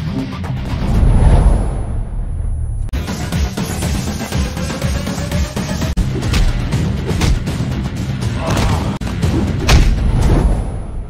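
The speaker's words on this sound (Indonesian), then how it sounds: "Baku tembak pun terjadi." A dense, continuous barrage of gunfire and booming impacts fills a shootout in an Akshay Kumar police action film, loud and heavy throughout with thumping low blasts layered over rapid shots.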